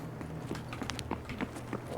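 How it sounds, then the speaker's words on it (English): Footsteps on a floor below the player in Escape From Tarkov, a run of soft, evenly spaced thuds and scuffs over a low background hum, muffled and moderately distant. "I hear footsteps below me"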